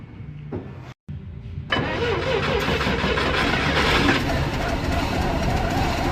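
An International Scout 800 with a four-cylinder engine and four-speed, running off a gas tank, cranks briefly, falls silent for a moment, then catches and settles into a steady close idle with a rough mechanical rumble while people talk nearby.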